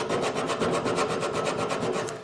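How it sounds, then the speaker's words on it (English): A metal file scrapes rust off a Nissan Murano rear brake part down to bare metal, a steady rhythmic rasping of fast repeated strokes, close and loud with no talking. "And I know this is not the proper way to use a file."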